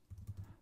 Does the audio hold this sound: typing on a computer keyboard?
yes